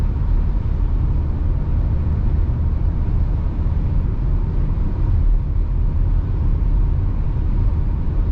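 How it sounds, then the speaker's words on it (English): Interior of a 2021 Volkswagen Tiguan 2.0 TDI cruising in sixth gear on a highway at 130 km/h, a steady low road and engine rumble with muted wind, constant throughout with no talk. "Pretty good noise cancellation, and yeah, really smooth drive at 130."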